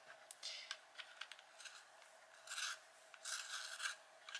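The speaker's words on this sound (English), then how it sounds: "I do need to sharpen." A dark fir-green colored pencil being turned in a handheld sharpener during a coloring session gives a close, dry scraping rasp, with a few short strokes and then two longer grinding bursts.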